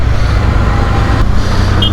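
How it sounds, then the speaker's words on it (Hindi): Heavy road traffic near Hosur sounds from a motorcycle as a constant, loud low drone of engines and road noise, with one brief click partway through. "कितना ट्रैफिक."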